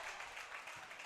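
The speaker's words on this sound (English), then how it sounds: "you're going to hear the cheering a little stronger because we are over here on the Ripley side" Crowd cheering and applause at an outdoor ranch invitational tournament, a steady wash of distant clapping and cheers that rises and falls slightly, with no clear voices standing out.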